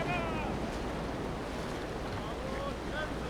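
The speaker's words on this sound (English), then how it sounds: "We got the wind on the left side now." Wind and waves wash steadily around a slow, large sailing ship in a video game, a constant close rush of air and water with faint creaks, and no one talking over it.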